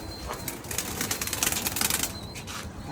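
Pigeon wings flap in a close, busy burst of soft beating and fluttering that rises to a dense peak in the middle before easing off, with no talking.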